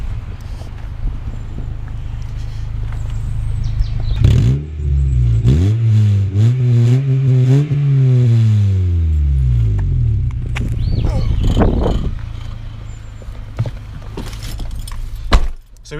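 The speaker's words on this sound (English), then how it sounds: "I'm just going to set these up outside and I'll give it a few revs" A Honda Civic MB2 with a D14A8 engine and a cheap universal 3.5-inch aftermarket exhaust is revved outdoors in several quick blips, rising to a throaty peak and settling back to a steady idle, with light wind noise on the microphone.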